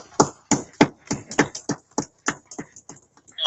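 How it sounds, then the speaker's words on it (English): About a dozen sharp hand claps ring out in a loose, slightly uneven rhythm at a Harlem Israelite school class, close and crisp with silence between them. "All right, clap it up, clap it up."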